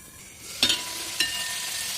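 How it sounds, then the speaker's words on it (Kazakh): Meat for pilaf fries in a covered pan, sizzling softly under a steady hiss, with two brief clattering bursts near the start. "Етіміз қуырылсын"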